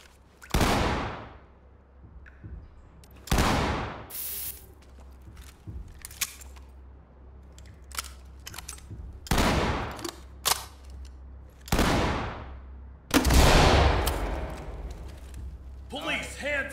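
Gunfire in the tactical shooter Ready or Not during a police raid: several loud, sharp shots in separate bursts over a low steady hum, with shouted talk between them.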